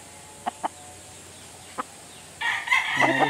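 A Hatch Gray gamefowl rooster crows loudly and close in the final second, after a few soft clucks and quiet farmyard ambience.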